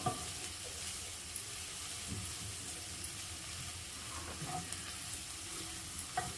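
Onions fry in a pan, turning translucent, with a faint, even sizzle and scattered small clicks and pops of stirring throughout.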